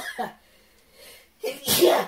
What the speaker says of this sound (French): Ça me fait même éternuer.